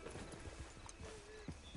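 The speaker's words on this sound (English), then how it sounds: "Just get on the horse when you're good and ready, okay?" Horse hooves clip-clop in Red Dead Redemption 2, a quick rhythmic series of soft hoof strikes under faint ambient sound, with a brief whinny-like tone in the middle, all very quiet.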